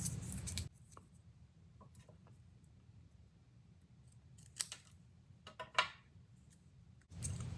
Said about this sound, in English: Now all I have to do is trim off the excess here.